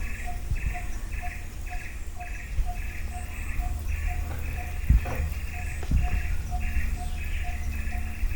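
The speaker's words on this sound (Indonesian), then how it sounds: "Ada juga di sana burung-burung" Forest birds call in a repeating pattern of short, regular chirps at a moderate distance, over a steady insect-like drone, with a few soft thumps and rustles nearby.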